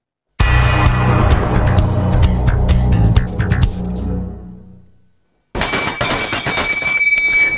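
A bell rings loudly with rapid repeated metallic strikes and a ringing tone that fades out, then after a short silence another bright, sustained ringing tone resumes.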